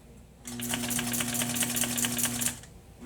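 A sewing machine stitches a box cushion in a steady, fast needle hum with a rapid mechanical clatter, starting abruptly and running evenly for about two seconds before stopping, close and alone.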